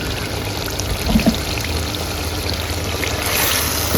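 Water poured into chicken curry simmering in a pan gives a steady, close splashing trickle that runs unbroken for a few seconds without talk.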